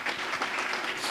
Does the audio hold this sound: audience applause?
yes